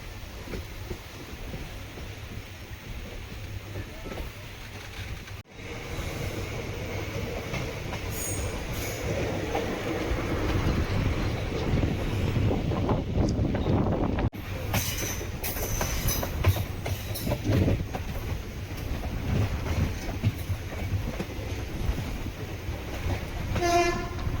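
Kamban Express train rolling along the railway track near Peralam, with a steady loud rumble of wheels and carriages, clickety-clack rhythm and occasional squeals and horn-like tones throughout, no talking.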